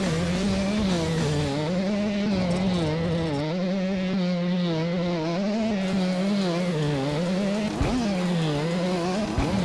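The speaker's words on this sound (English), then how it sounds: "Not going to say that the bike engine isn't irritating, but at least it sounds better than most others I've played." Steady, droning motorcycle engine from a PlayStation racing demo game, a loud buzzing tone that rises and dips with throttle throughout, continuous and close with no talk.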